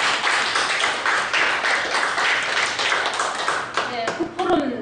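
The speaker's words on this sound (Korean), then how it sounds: "박수 한번 보내드리겠습니다" A book forum audience claps for an author, a dense burst of applause that thins toward the end as a few last claps fade under a voice starting to speak.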